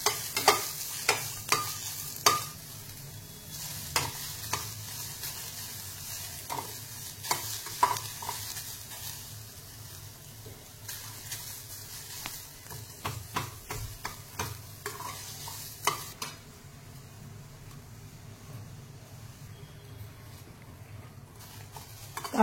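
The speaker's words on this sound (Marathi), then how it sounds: "आता आपण कांदा देखील भाजून घेणार आहोत. तो देखील आपल्याला लालसर रंगावर भाजायचा आहे." Chopped onion frying in a pan until reddish, a steady close sizzle running throughout with frequent sharp scrapes and clinks of a spatula stirring against the metal, no voices.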